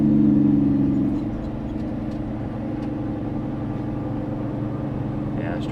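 A low-mileage Peterbilt 389 truck drives with a steady low engine rumble, briefly revving louder at the start, heard from the cab with people talking over it.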